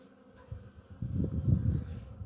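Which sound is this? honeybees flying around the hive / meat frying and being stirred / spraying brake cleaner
honeybees flying around the hive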